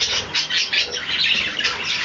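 A seagull calls in a quick run of bright, repeated chirping squawks, close and fairly loud, filling the whole moment without any talk.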